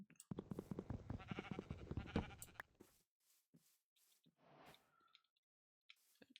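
Sheep bleating in Minecraft, a loud wavering bleat followed by a few short, quieter game sounds and soft clicks.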